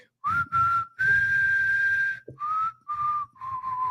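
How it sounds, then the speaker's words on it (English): Clear, close whistling of a short tune in a few sustained and gliding notes, with brief gaps between phrases and no talking. "that might be the one and only time we ever whistle on the show"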